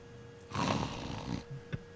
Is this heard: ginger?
no